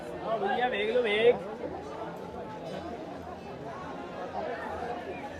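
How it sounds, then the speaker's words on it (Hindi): A busy crowd murmurs in Sarojini Nagar Market in Delhi, a low steady babble of many voices with footsteps, and one nearby voice speaking clearly over it at the start. "तो इसीलिए जो है यहाँ पर भीड़ भी लगती है।"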